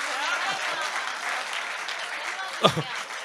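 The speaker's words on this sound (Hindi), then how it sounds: "तालियां बजा दीजिए थोड़ी सी" An audience at a Hindi poetry gathering during a festival applauds, a moderate, steady wash of clapping lasting a few seconds with a brief voice near the end.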